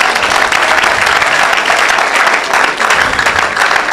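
A church congregation bursts into sustained, dense applause, loud and steady throughout with no pauses.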